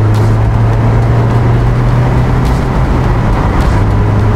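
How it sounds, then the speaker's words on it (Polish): A 2023 Mazda MX-5 pulls up to highway speed on a dual carriageway, its engine droning steadily under loud, constant road and wind roar with no break. "A więc bujamy potwora do 100."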